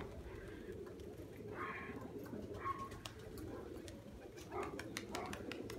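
Pigeons coo repeatedly over a steady murmur of young birds in a loft, the low, rolling calls near and moderately loud with scattered chirps, and no speech.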